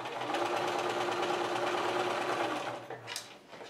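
Sewing machine running steadily as it stitches straight across fabric strips with a quarter-inch presser foot for quilting, a continuous close mechanical whir that slows and stops near the end.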